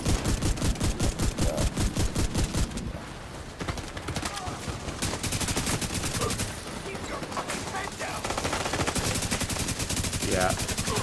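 Rapid, loud gunfire from a shotgun in The Division 2 video game, a dense string of blasts that briefly pauses and then resumes, with game effects layered underneath.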